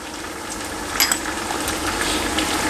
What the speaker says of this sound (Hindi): अभी मैं इस मसाले को अच्छी तरह भून लूँगा चिकन के साथ।